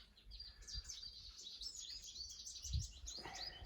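Wild birds gather around two backyard feeders, chirping and singing in a continuous, fairly faint chorus of overlapping high tweets, with a few soft thumps underneath.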